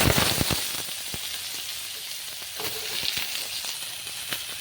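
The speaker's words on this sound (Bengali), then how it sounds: "এইবার আমি ওই তেলগুলোতে ঝিঙেগুলো" Ridge gourd slices fry in hot oil left over from frying fish, producing a dense, continuous sizzle and hiss up close, with occasional sharper crackles and no talking.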